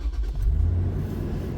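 Low rumbling road noise from inside a moving car, a steady engine drone and tyre hum filling the short stretch at a fairly even level.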